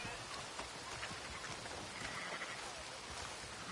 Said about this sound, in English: Damn rain. Just about wet through.